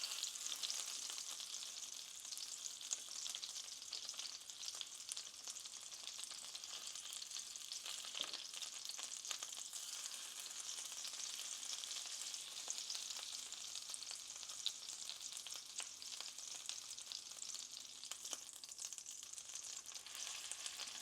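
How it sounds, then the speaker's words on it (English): A wahoo fillet searing in a hot pan gives a steady, bright sizzle and fry hiss throughout, with occasional crackles and pops and no talking. "And then I'll just pick it up and sear the edge right here."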